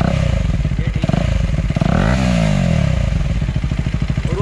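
A KTM Duke motorcycle fitted with an aftermarket exhaust revs loudly up close, its throbbing idle rising into a sweeping throttle blip before settling back to a rough, pulsing rumble.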